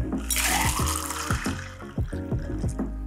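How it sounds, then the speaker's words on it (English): A shaken Hurricane cocktail poured with its crushed ice into a large glass: a close liquid splash and gurgle that softens, then ice clinks and sloshes in a steady rhythm, with no talking. "We're gonna open pour everything in a large glass."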